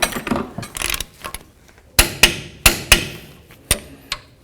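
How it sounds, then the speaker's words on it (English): Sharp metallic clicks of a torque wrench reaching set torque on front brake caliper bolts of a 2003-2009 Toyota 4Runner, about six crisp clicks in pairs after some handling noise, close and fairly loud in a quiet garage. "Now we're going to torque them down to 91 foot-pounds."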